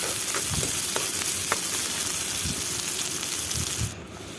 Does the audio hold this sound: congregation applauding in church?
no